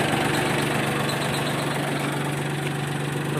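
A minitractor with power steering and reverse idling close by, a steady rhythmic engine chug with a low hum and knocking texture, constant in level with no voices.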